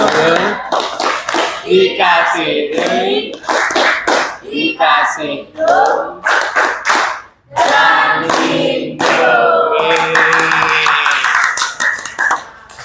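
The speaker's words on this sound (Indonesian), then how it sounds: "Tepuk semangat." A class of schoolchildren performs the rhythmic 'tepuk semangat' clap, crisp patterned claps mixed with the children's voices chanting along in time, loud and close.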